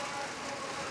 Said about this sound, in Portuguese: Aí, pessoal, tá chovendo aqui em casa.